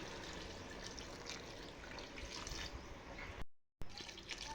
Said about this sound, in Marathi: आता हवं तेवढं पाणी घालायचं आहे